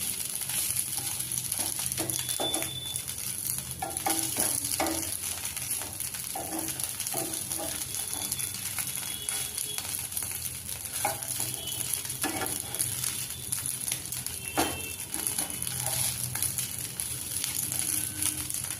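Poha and suji breakfast cakes made with curd fry on both sides in a pan, giving a steady soft sizzle with scraping and turning clicks from a spatula, close and continuous with no talk.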